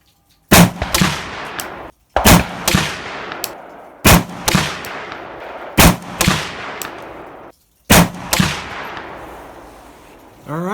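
Loud, close shots ring out from a PSA AR47 7.62x39 pistol with a 10.5-inch barrel, fired in spaced pairs and singles with sharp echoing decays.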